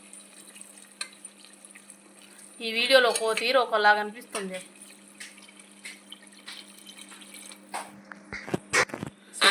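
Water is poured into a pressure cooker over fried mutton, a brief splashing and trickling near the mic, while a person talks for part of the time.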